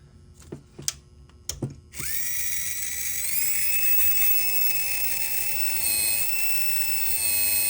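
A few sharp clicks and taps, then an electric motor spins up into a loud, steady high-pitched gear whine that shifts pitch once and keeps running, from a Eurosport motor mount under test for gear mesh.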